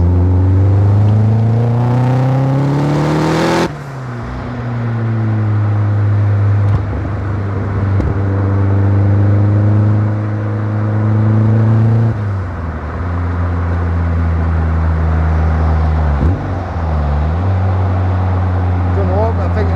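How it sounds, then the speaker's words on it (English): A turbocharged Mazda MX-5 engine roars and rises in pitch through several gear changes, loud and close, with brief dips between shifts. "It's just a freaking fast car."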